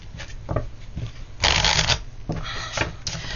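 Tarot cards being shuffled by hand: several quick riffling bursts, close and crisp, with a longer loud riffle in the middle and shorter ones after.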